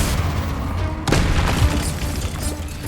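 Confringo fire spell blast in the Hogwarts Legacy video game, a sudden loud boom about a second in with a crackling burst over continuous game sound, no talk.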